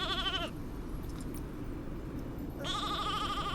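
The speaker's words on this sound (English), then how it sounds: "The sheep are going crazy right now." Sheep in the Infinity Nikki video game bleat in a wavering, vibrato chorus, one burst at the start and another near the end, with a steady ambient background bed between them.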